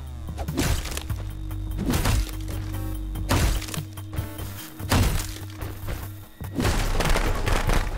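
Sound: fireworks in video game Friday the 13th The Game

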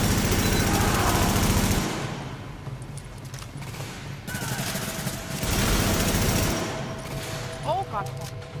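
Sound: gunfire shooting enemies in The Division (video game)

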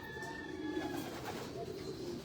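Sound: pigeons cooing in a breeders loft

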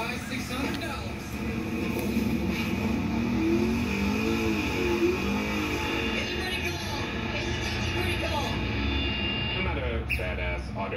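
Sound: 2007 Corvette Z06 revving during tire burnout attempt

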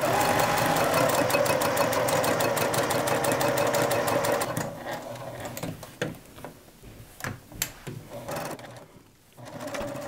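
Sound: sewing machine sewing a quarter-inch seam around a tote bag

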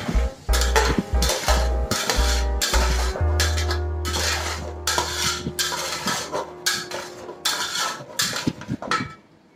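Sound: stirring cooked potatoes with onions in a pan

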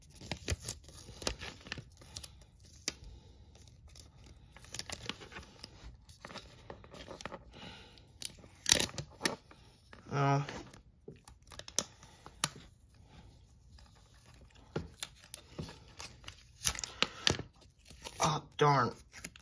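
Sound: peeling and applying a sticker to a toy race track set

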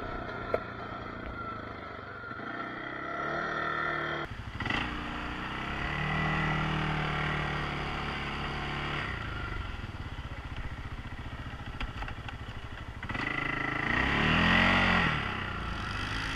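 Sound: four-wheelers driving by

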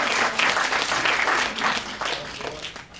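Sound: audience applause for volunteer Mandy Hughes

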